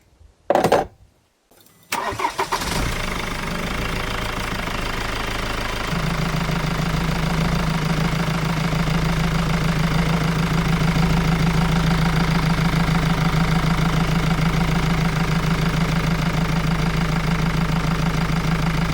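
Ford Transit MK7 2.2 TDCi diesel with a knocking injector cranks briefly, fires up and settles into a loud, steady idle with a persistent rhythmic clatter running throughout.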